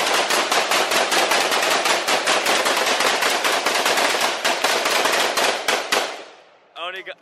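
Rapid sustained gunfire emptying a full magazine during a Fourth of July shooting session, loud close bursts of shots in quick succession that stop abruptly, followed by a brief metallic rattle.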